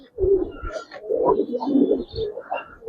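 Giribaz pigeons coo in soft, low, throaty bursts, several overlapping calls close by over about three seconds, with faint background noise.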